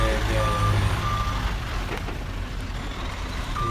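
A truck's reversing alarm beeps steadily over a loud, rumbling engine nearby, with a brief hiss of air midway.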